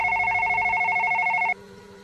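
An electronic phone in a video game rings with a steady warbling trill for about a second and a half, then cuts off abruptly, leaving a low background hum.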